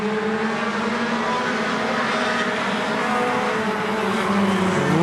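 Race cars roar around a super short track in 2018 racing, a Cavalier among Mustangs and Hondas, engines droning loud and steady with several cars blending into a continuous pack, rising slightly toward the end.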